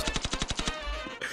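Rapid automatic gunfire from the mobile shooter game Standoff 2, a burst of about eight loud, evenly spaced shots followed by a short sustained volley, close and alone.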